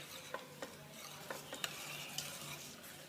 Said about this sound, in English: Don't forget to stir, otherwise you will overcook the eggs.